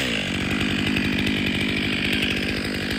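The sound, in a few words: chainsaw with 25-inch bar cutting a tree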